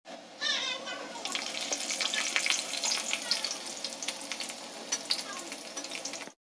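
Meat and potatoes fry and get stirred in a pan for a festive home meal, a dense crackling sizzle that starts after a brief pause and continues close and busy throughout.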